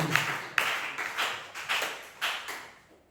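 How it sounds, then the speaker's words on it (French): A church congregation at a Thursday worship service claps in faint, distant bursts, about six separated swells of applause that each fade before the next. "Applaudissez le Seigneur Jésus."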